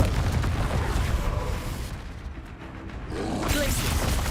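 Confringo fire spell in the Hogwarts Legacy video game, a loud roaring blast with a rumbling burst that dips briefly and then flares again, dense and close with no pause.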